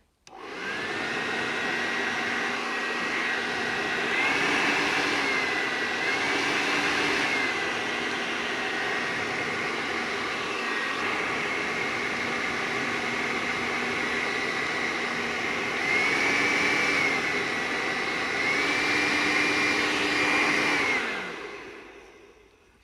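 A freshly repaired hair dryer runs continuously with a steady loud whooshing blow, its motor pitch stepping up and down a few times as the settings change, then switching off at the end.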